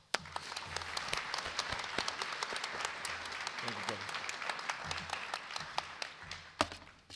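Audience applause welcoming the mayor of Richmond at a Newport News sheriff's office promotion and awards ceremony, dense steady clapping throughout with a few sharper claps standing out and faint background voices or music beneath.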